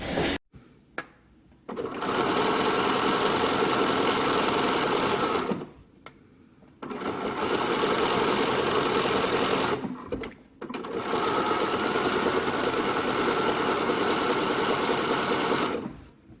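Sewing machine stitching fabric for a caftan pool cover-up, running in three long steady whirring bursts separated by short pauses, close and alone with no talk.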